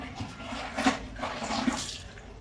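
Water runs and splashes in a bathroom while socks are washed by hand, a steady wash of noise with a couple of small splashy bursts, close and moderately loud.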